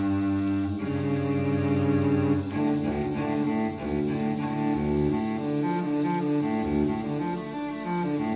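Crickets chirp steadily in dense, overlapping layers, a continuous loud chorus of many insects shrilling without a break, with a shift in the mix partway through.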